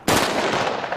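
A single sharp, loud blast of gunfire erupts on command, its broadband crack lingering briefly as a fading rumble.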